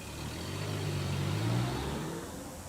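A 1997 Subaru Forester driving on the road, its steady engine drone and tyre roar heard from inside, swelling slightly mid-clip before easing off.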